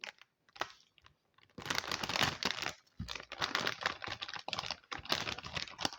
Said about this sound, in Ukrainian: Давайте ми відкриємо і дізнаємося, хто в цьому пакеті